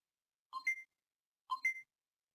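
A classroom timer goes off with two identical short electronic chirping beep bursts about a second apart, clean and isolated against silence.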